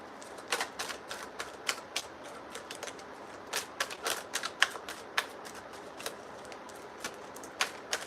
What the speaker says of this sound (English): Shuffling the same way I was just shuffling before.